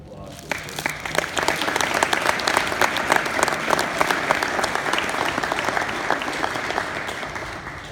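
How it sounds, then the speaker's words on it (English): Audience applause for paratroopers at an 82nd Airborne Division change of command ceremony, a dense, steady wall of clapping from a large crowd that swells in after half a second and carries on loudly to the end. "Please join me in giving them a round of applause for their service."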